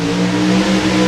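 Nostalgia drag-racing hot rods, including 1933 Willys cars, rumble and rev loudly at an NHRA Hot Rod Reunion, a thick, steady engine roar close by for a brief moment.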